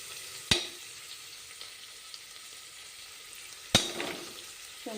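Ginger garlic paste frying in a pan for tomato rice, a steady soft sizzle broken by two sharp stirring clatters.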